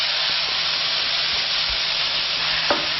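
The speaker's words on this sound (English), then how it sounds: "Use a spoon and mash this up" Eggplant being mashed with a spoon in a hot pan, a dense steady sizzle and hiss of frying with a few soft scraping knocks, close and continuous.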